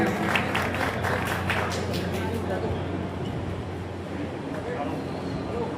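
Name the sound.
audience applause welcoming a politician at a rally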